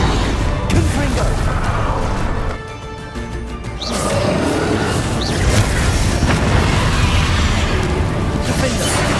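A Confringo spell blast goes off in the Hogwarts Legacy video game within heavy, loud battle noise, with booming bursts and roaring rumble, a short quieter dip, then sustained clamor and a voice speaking throughout.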